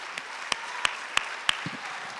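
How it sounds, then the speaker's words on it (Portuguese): Church congregation clapping in a steady, even rhythm, about three claps per second, each crisp and moderately soft over a faint hum of the hall, with no voices over it. "Você pode aplaudir mesmo com força, com louvor, porque é para o Senhor"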